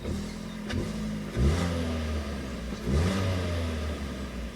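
A 2010 Ford Focus 2.0 GLX engine is blipped with the accelerator, giving two distinct revs that rise and fall over a steady idle hum, close and clear, with no talking.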